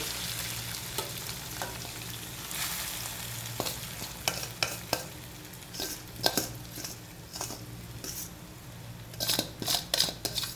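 Rice for sweet rice is tipped into a hot pot and stirred, making a steady sizzle and frying hiss with scattered scraping and clinking of a spoon against the metal, close by.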